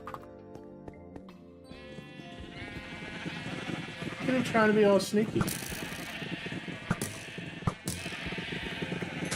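Sheep in the Minecraft video game bleating several times among blocky game sound effects, with someone talking over them.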